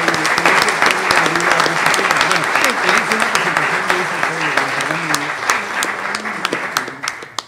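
Sustained applause from a seated audience at a molecular genealogy panel, honoring an absent award recipient; dense clapping fills the span with a tonal voice or music line running underneath, tapering slightly toward the end.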